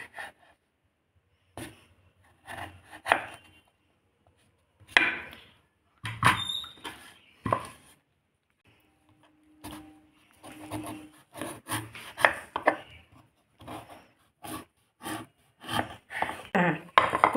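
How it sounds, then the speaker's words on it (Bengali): A knife peels pieces of elephant foot yam. It makes dry scraping, rasping strokes in short irregular bursts, close and fairly quiet, with pauses between them and no talking. "ভালো করে খোসা ছাড়িয়ে নিচ্ছি মানকচুর গায়ের"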